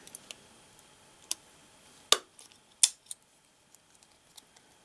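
Scissors cut a hole in craft material with a few sharp, close snips, two louder than the rest, scattered among faint clicks in a quiet room.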